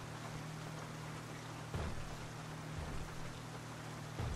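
Steady rain pours down in GTA V in a constant broadband hiss, with a low engine-like hum underneath and brief louder splashes.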